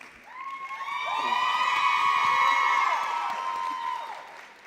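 A crowd at a community fast-pitch fundraising evening cheers for the last presenter, with loud sustained whoops and shouts over applause that swell and then fade.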